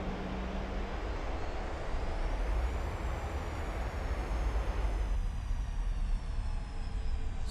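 Airliner on landing rollout from Copenhagen to Maastricht with reverse thrust and braking, a loud, continuous roar of engines and rushing air heard from inside the aircraft, easing a little toward the end.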